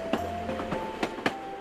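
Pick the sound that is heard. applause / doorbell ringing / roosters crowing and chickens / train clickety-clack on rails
train clickety-clack on rails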